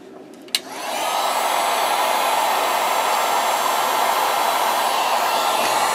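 A heat gun is switched on with a click and blows in a steady, loud whoosh while heat shrink tubing is shrunk on a bench, continuing without a break and with no voices.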